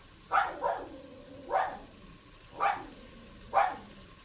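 Four sharp dog barks spaced about a second apart, moderately loud, with quiet room tone between them.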